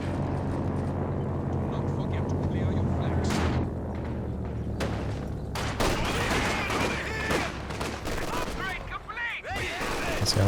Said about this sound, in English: This LMG Grenadier really letting rip into these conscripts.